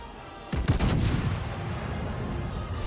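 Naval gunfire from World of Warships Legends, with the heavy cannons of the British battleship Collingwood booming in a quick cluster of loud shots, followed by a sustained rumbling roar of battle.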